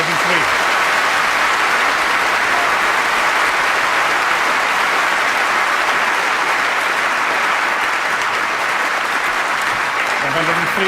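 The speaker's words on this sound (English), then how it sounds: "A prolonged round of applause." A very appreciative snooker crowd at the 2008 Masters gives a prolonged, steady round of applause for a century break. The dense clapping stays loud and unbroken from start to finish.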